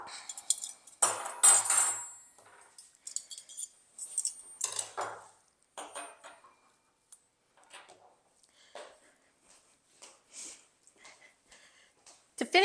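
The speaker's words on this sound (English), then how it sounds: "I'm going to come around on this side and go ahead and add that silver." Silverware being set down on a rustic Halloween table with twig placemats, a series of bright metallic clinks and taps in irregular bursts, close and clear, with a voice speaking between them.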